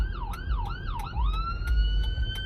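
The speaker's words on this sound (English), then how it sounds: "And here comes an ambulance" An ambulance siren wails close by, sweeping up and down in a rapid yelp and then holding a steadier tone as the vehicle passes, loud over low traffic rumble.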